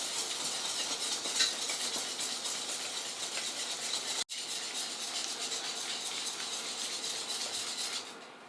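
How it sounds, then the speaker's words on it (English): A whisk stirs a flour-based sauce for chicken lasagne in a pan, giving a faint, continuous scraping and soft sizzle with light metallic rattles, one sharp knock midway, then fading at the end. "Now if it's starting to get a bit liquidy like mine is, I'm going to swap to a whisk"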